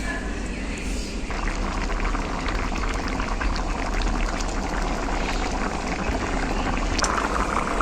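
A pot of fish-head dal with coconut and banana simmers at a rolling boil, making a steady, close bubbling and gurgling that continues throughout.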